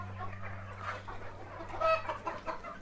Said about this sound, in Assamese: এইখিনি মুৰ্গী আছে